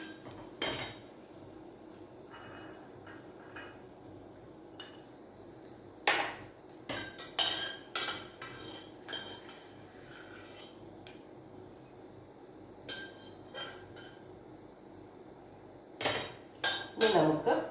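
A spoon scrapes and clinks against a pan while lifting out fried coconut pieces for oats payasam, giving scattered metallic knocks and rubs in bursts over a low background hiss, fairly close and moderately loud.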